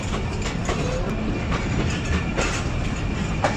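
A passenger train rolls along the railway track between Narowal and Sialkot, a steady close rumble of wheels with faint rhythmic clicks over the rails and no voices.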